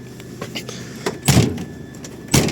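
An old car's door, one that won't close properly, thuds shut with a solid close, followed by a second firm thump, amid faint rustling and soft clicks.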